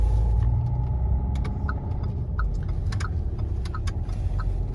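A car entering a roundabout during a driving lesson, heard from inside the cabin: steady, loud low engine and road rumble throughout, with a regular series of faint, sharp ticks like a turn indicator clicking, and no voices.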